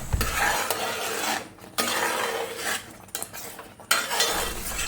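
Melting jaggery being stirred in a pan for a jackfruit snack, with repeated scraping and rasping strokes and light clinks of a utensil against the metal, coming in bursts separated by short pauses, close and moderately loud with no talking.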